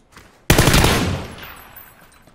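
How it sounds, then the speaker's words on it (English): A single loud burst of gunfire in the battle royale video game PUBG, an abrupt sharp blast followed by a rattling echo that fades over about two seconds, with no talk over it. "I don't know who he's shooting at though."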